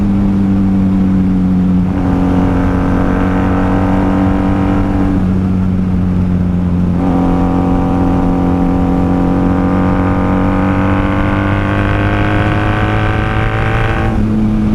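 A 1994 Honda Magna VF750C V4 motorcycle engine revs hard through the gears at high RPM, with a loud, steady harmonic drone that climbs in pitch, drops briefly at each shift and climbs again.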